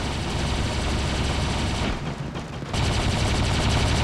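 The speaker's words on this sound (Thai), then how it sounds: "อ๋อชูเรเดอร์ชูเรเดอร์เสียงมันรัวๆ" Shredder gun in the War Robots video game firing rapidly, a loud dense rattling burst that drops out briefly for about half a second, then resumes at full intensity.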